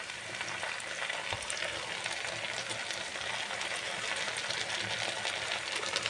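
Chopped tomatoes frying with onions in a pan for a mutton curry, a soft continuous sizzle with faint stirring, steady and quiet with no talk.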